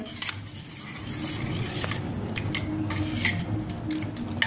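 A spoon stirring spiced masala buttermilk in a glass, giving soft repeated metallic taps and clinks over a steady low background, close and fairly quiet, with no talking.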